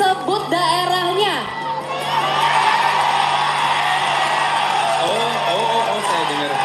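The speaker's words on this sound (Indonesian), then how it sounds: "saya pengen dengar tepukan tangan paling meriah sekali lagi" A large crowd at the Puteri Indonesia 2022 beauty pageant finale cheers, claps and shouts in a loud, sustained roar, with high whoops and an amplified voice over the top at the start.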